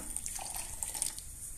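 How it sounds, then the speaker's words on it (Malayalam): Water pours into a mixer jar while preparing a spice paste for parboiled-rice biriyani, a soft, close trickle with light splashing and drips. "കുറച്ച് വെള്ളം ഒഴിച്ചു കൊടുക്കാം"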